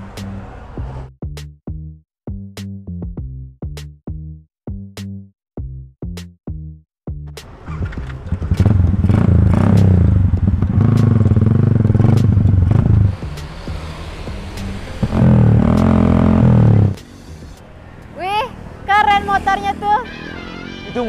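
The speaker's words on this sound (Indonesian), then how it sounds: "Itu motor kesukaanku." A big, modified motorcycle engine runs loud and rough in a sustained roaring stretch, preceded by sharp rhythmic knocks, with voices talking around it.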